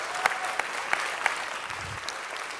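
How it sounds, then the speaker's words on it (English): Applause from an audience at a city council meeting as a noted screenwriter and director comes up, a steady wash of clapping with a few sharp claps standing out, moderately loud and continuous throughout. "Will you please give him a round of applause as he comes up?"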